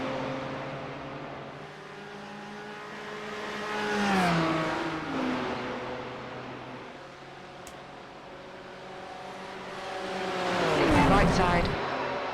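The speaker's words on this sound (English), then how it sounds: "Just keeping an eye on these GT3s as they come past." GT3 race cars rush past on the Nürburgring circuit during a 24-hour endurance race, engines rising and falling in two loud pass-bys with a faint tire squeal, heard from inside a car under steady engine drone.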